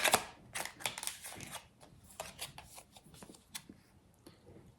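Tarot cards being shuffled in rapid riffles and slides, a busy run of papery flutters and snaps close by with short pauses, no voices.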